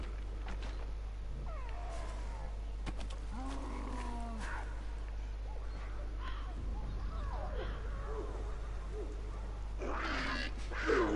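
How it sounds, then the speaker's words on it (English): Wild cats in the video game Far Cry Primal yowl and caterwaul in several drawn-out, wavering calls over a steady low game ambience hum, moderately close, with no talk. "Oh, that's a kitty cat again."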